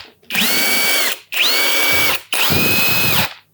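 Three loud bursts from a Mollar CIW 21500 impact wrench running at speed 3, each roughly a second long with a high whine over dense hammering and short gaps between runs.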